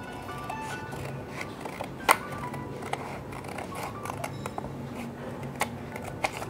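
Scissors snip through paper while a triangle is being cut out, giving a few sharp, close clicks and crisp snips spaced irregularly over a quiet background.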